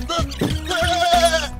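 Goats at a Pakistani livestock market give a few quick, close bleats in succession, nasal and wavering, with no talk over them.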